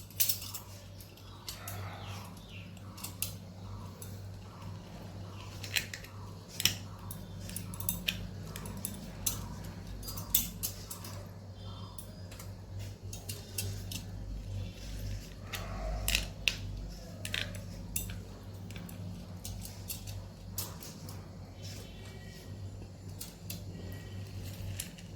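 A spoon mixes chola chaat after lemon has been squeezed over it, giving light repeated clinks and scrapes against the bowl, close but quiet over a low hum, with no talk.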